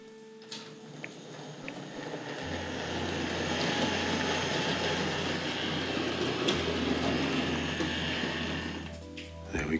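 A Tri-ang model railway locomotive running along the track, a soft whirring motor hum with faint wheel clatter that rises and holds steady, quiet and close.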